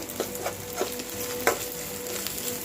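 Sora fish fry masala stirred in a pan over a low flame, with a gentle steady sizzle and regular spatula taps and scrapes against the pan, close up and without voices.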